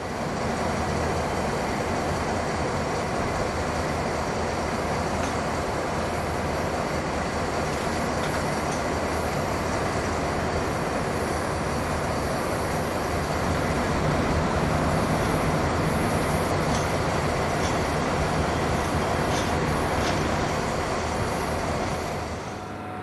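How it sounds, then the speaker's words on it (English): A pair of BB26000 diesel locomotives wait to enter a railway depot, giving a steady, loud engine rumble and rail noise that runs unbroken for the whole stretch, with no voices. "A pair of BB26000 diesels are seen awaiting entry to the depot."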